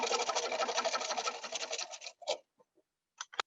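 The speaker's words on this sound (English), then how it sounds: "I'll stitch that 1/4-inch seam until I get to that uphill side." Sewing machine stitching a quarter-inch seam on a quilt block, a rapid close whirring run of stitches that stops, followed by a few short bursts and clicks.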